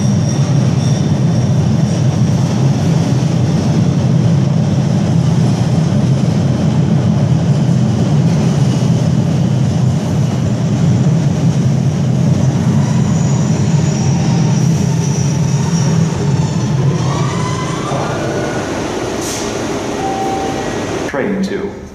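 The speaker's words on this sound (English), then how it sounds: "today we are taking the red line from Davis to Park Street" MBTA Red Line subway train riding from Davis toward Park Street, a loud steady rumble and hum of wheels and car noise that eases slightly near the end, with a brief squeal and a faint announcement tone.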